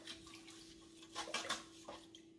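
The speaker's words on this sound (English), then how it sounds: "I'm just gonna just take one of the spoons and just mix it up" A spoon stirs salt-seasoned food in a kitchen bowl, giving soft scraping and clinking of utensil against dish, faint and close, with a steady hum underneath and no talking.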